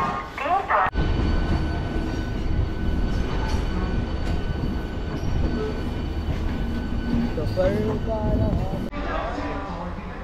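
A local passenger train bound for Santragachi rumbles along steadily and loudly from inside, with rattling wheels, brief squeals and a few faint voices in the carriage throughout.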